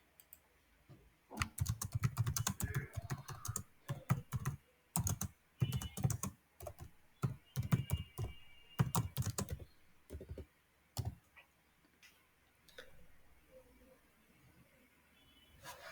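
Typing on a computer keyboard in bursts of rapid key clicks with short pauses, close and clear, tapering off into sparse taps near the end, with no talking.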